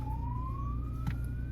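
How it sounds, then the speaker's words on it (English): An ambulance siren in a traffic jam sounds as a single steady tone that slowly rises in pitch, heard from some distance over the low drone of idling engines. "and even the ambulance can't go past."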